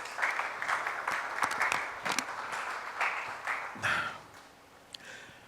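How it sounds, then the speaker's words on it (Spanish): A church congregation applauds during a sermon, with scattered, uneven clapping that swells and fades for several seconds, heard at a moderate distance. "Dale un aplauso al Señor si lo puedes creer"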